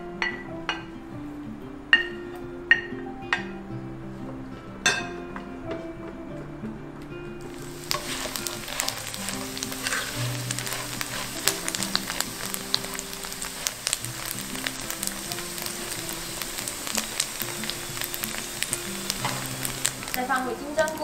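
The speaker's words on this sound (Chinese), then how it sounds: "煸至金黄" Taro and dried tofu stir-frying in sesame oil until golden, a steady dense sizzle that swells loudly partway through, with occasional spatula clinks and stirring scrapes over tonal background music.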